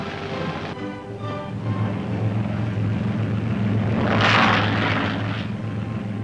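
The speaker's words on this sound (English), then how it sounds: "Wheels begin to fold almost before they leave the runway." A P-47 Thunderbolt fighter plane taking off from a runway, its engine a loud, steady drone with a low rumble that swells briefly toward the end, heard alone without talk.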